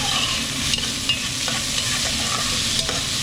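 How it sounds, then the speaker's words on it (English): Vegetables being stirred and sautéed in a pan for a chicken noodle dish, without browning: a continuous close sizzle with occasional spoon scrapes and clicks, no voices. "So again, we're going to stir our vegetables."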